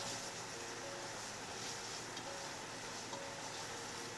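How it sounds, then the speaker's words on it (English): Food in a cooking pan, with parsley just added, being stirred: a faint, steady sizzle with soft scraping, close and continuous, no voices. "Just adding some parsley, some greenery. Give it a stir."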